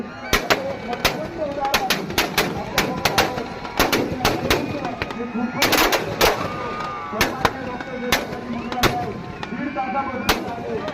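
Firecrackers bursting at a Ravana effigy burning during a Dussehra event in Wasmat town, a rapid irregular string of loud sharp bangs and crackles over several seconds, with crowd noise and voices underneath.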